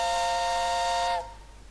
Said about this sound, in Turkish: Ya düdükçüm susar mısın?